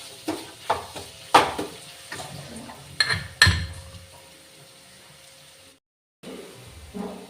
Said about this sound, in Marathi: तर मी आता हे गाजर छान फ्राय करते तुपामध्ये.